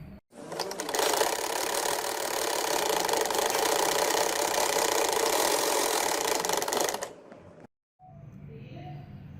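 A sewing machine stitches the center seam of a child's red shorts with red thread. It runs loud and steady for about seven seconds without pause, then stops abruptly, and after a short silence quieter room sounds follow.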